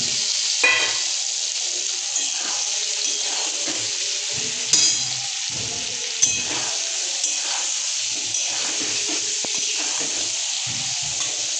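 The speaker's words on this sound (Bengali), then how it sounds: "এবার আমি পটল দিয়ে দিচ্ছি।" Pointed gourd frying in spiced oil with tomato and cumin paste, a continuous close sizzle broken by several sharp clinks and scrapes of a spatula stirring against the pan.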